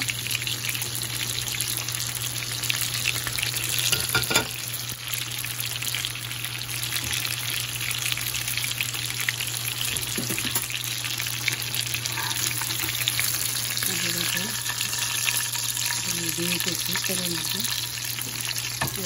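Chicken meatballs fry in a small amount of oil, giving a steady soft sizzle with occasional stirring scrapes and light clatter throughout, close by and without talk.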